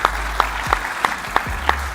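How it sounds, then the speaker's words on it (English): Sparse, evenly spaced claps ring out at an engineering summit, about three per second over a low steady hum, sounding like a few hands rather than a full crowd. "give them a big round of applause"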